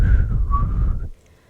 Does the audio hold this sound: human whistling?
yes